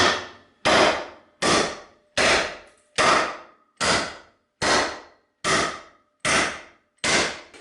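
A hammer strikes ten times in a steady rhythm, each blow a sharp, loud, close crack with a quick decaying ring and short silences between.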